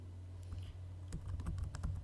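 Keystrokes on a computer keyboard while a root password is typed during a Slackware 14.2 Linux installation, a quiet, irregular run of clicks over a steady low electrical hum.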